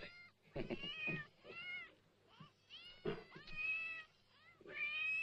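Caged cats meowing in a run of drawn-out, wavering cries that overlap and come back again and again, fairly close, over a faint low hum, with no speech.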